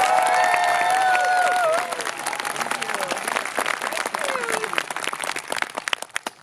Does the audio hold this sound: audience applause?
yes